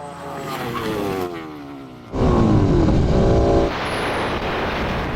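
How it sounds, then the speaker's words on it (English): Car and KTM motorcycle brake hard together from 100 mph during a drag-race brake test, engines loud and droning before a sharp roar surge, then steady heavy road and wind noise as they slow. "Okay, now we're going to have a brake test from 100 miles an hour."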